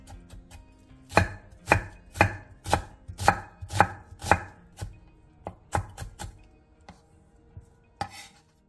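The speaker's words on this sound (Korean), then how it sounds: "당근 3장과 양파 2분의 1개를 잘게 다져주세요." A knife finely chops carrot and onion on a board in a quick, rhythmic run of about a dozen crisp, close strikes, with a few lighter taps before and after.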